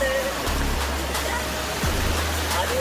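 Steady, dense rain hisses without a break, a heavy wash of noise with a low rumble and brief faint voices underneath.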